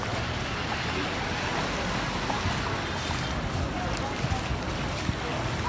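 Floodwater flows across a road in Gambia as a steady, loud rushing wash that runs unbroken throughout, with a broad windy hiss over it.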